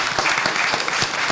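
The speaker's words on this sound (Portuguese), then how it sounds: "Então, uma salva de palmas, Eloneida estuda." Applause in a public assembly hall during a banking-workers commission session: steady, dense clapping from a crowd, held at an even, loud level throughout.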